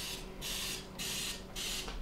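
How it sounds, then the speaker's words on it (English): Three short hissing bursts of cooking spray into a muffin tin, close and evenly paced over a steady low background hum. "Just gonna do a quick spray"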